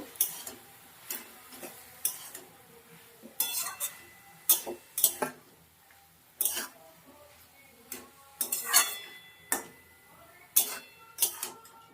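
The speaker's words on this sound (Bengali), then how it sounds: "নাড়াচাড়া করে নেব।" A spoon stirs drumstick flower curry with mustard-poppy paste in a pan, giving sharp, irregular clinks and scrapes against the metal at close range, with soft background noise between strokes.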